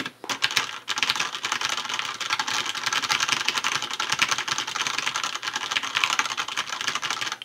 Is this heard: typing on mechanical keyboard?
yes